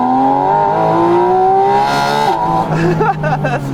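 A Porsche 718 Spyder RS engine screams up through high revs, pitch climbing steadily, then drops and surges again, loud and close.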